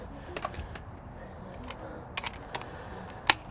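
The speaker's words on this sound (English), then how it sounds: "because these are alloys, I'm only torquing them to 85 pounds" A torque wrench tightening lug nuts to 85 pounds on alloy wheels of a 1968 Baja Bug fitted with 4-lug to 5-lug adapters: scattered sharp clicks and ticks at close range, ending with one louder snap.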